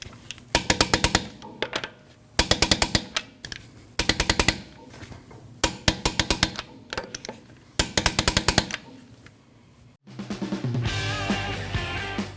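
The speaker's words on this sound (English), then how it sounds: "You want to torque your lug nuts down to 100 foot-pounds in a star pattern." Car lug nuts on a 2013-2019 Ford Escape being torqued down with a torque wrench in a star pattern: five rapid bursts of sharp clicking ratchet sounds, evenly spaced and close, followed by a short different rustling noise at the end.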